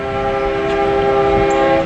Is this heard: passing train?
yes